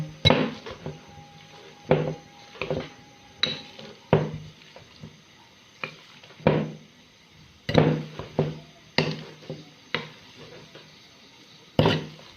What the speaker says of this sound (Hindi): ये मैंने आधा किलो आलू लिए, इन्हें मैश कर लेते हैं